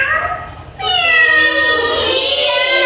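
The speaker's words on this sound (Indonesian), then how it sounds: "ini tadi adalah suara kucing." A cat gives a short meow, then a longer drawn-out meow that rises and slowly falls, close and clear over a faint low background.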